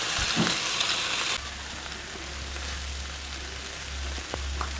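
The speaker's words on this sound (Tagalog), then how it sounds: "Ngayon po ay tayo naman ay maggigisa o isusutay naman natin yung ating karne" Pork meat sautéing in a pan for Filipino binagoongan, a steady sizzle with a low hum underneath, starting after a brief louder burst and continuing evenly with occasional clicks.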